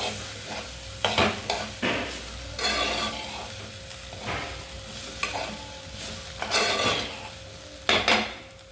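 Purple cabbage stirred in a pan: repeated scraping spatula strokes and clanks against the metal, each burst followed by a light sizzle, close and fairly loud in an irregular rhythm.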